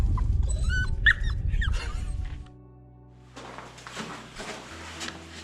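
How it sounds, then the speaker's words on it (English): A dog at the stone ruins of Carnasserie Castle in Scotland whimpers and yips in a cluster of short, close, high cries over the first two seconds, followed by quieter rustling and shuffling. "I think I see a dog. Oh, are you locked in or locked out?"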